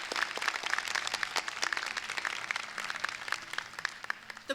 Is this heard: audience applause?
yes